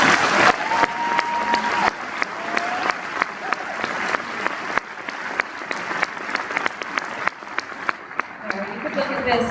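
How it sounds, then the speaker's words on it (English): Audience applause at a high school senior reception honoring departing faculty, a dense sustained clapping from a large crowd with loud individual claps standing out near the mic, steady for about nine seconds. "So let's give them a round of applause."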